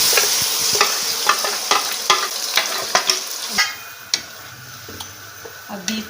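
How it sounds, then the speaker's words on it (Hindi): Beef frying in hot ghee in a wok, with loud sizzling and regular stirring clanks and scrapes at a steady rhythm, nearby and with no talk over it. "घी हमारा अच्छे से गर्म हो जाए तो इसमें बीफ शामिल करेंगे।"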